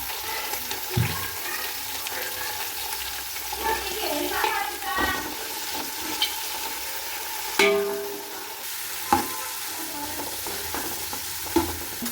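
Cauliflower and beans are tipped into a hot pan and stirred, producing a continuous hissing sizzle with scraping spoon strokes and a few sharp knocks against the pan.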